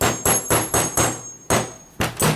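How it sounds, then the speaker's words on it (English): Roll pin punch tapped into a Ruger LC9 pistol: seven sharp metallic hammer taps in an even rhythm, loud and close, with a brief pause midway and no talking. "you take your roll pin punch or your homemade version, and you place it in there, and then you just give it a few taps"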